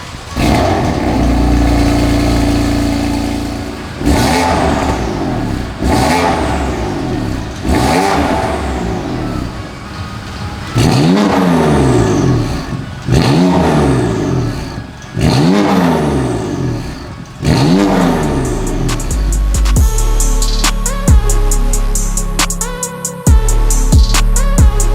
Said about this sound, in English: So now let's start up the car and listen to how it sounds.